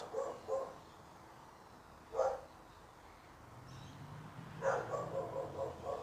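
A dog next door to a backyard archery range barks in short bursts of two or three yaps, spaced a few seconds apart and heard faintly from a distance over quiet ambience.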